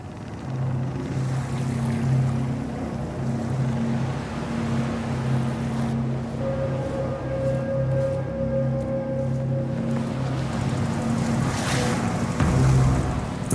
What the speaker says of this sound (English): Waves of the raging sea, its relentless crashing against the shore, the blood-curdling roar